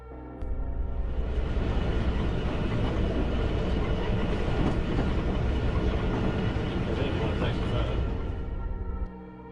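A train rolls steadily along a railway line on a scenic route, its rumble and rattle loud and continuous from close by, rising at the start and easing off at the end.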